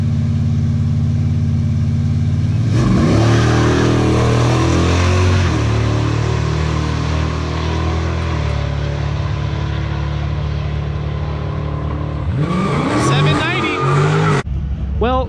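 Race cars accelerate hard down a drag strip, a loud engine roar that builds and fades past with rising revs, then another car launches near the end, while people talk over it.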